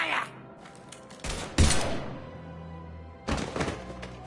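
Bursts of gunfire erupt in Mass Effect 3, loud cracking volleys coming in two heavy clusters separated by a quieter stretch with low rumble and faint voices.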